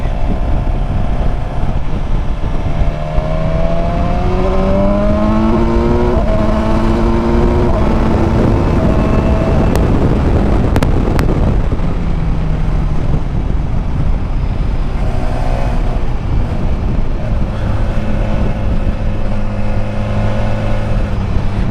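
A 2019 BMW S1000XR motorcycle engine revs up through several gears while passing a truck, rising pitch, with heavy wind rush and passing traffic noise throughout.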